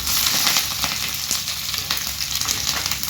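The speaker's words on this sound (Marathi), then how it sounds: "इकडं तेल ठेवलेलं आहे थोडंसं गरम करायला आता त्याच्यामध्ये टाकूया आपण थोडीशी मोहरी" Mustard seeds and green chilies sizzle in hot oil for a dhokla tempering, a loud, continuous crackling fry with sharp pops scattered through it and no voices.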